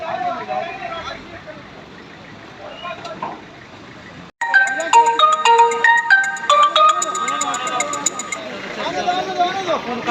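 A mobile phone ringtone bursts in partway through, a loud repeating electronic melody of bright tones that plays over crowd babble and talk at a gathering where a body is brought home.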